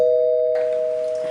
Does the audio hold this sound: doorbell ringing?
yes